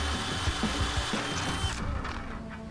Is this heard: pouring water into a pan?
no